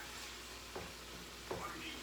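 Food frying in a pan during home meal prep, a steady soft sizzle with a couple of brief utensil scrapes, fairly quiet and with no one talking.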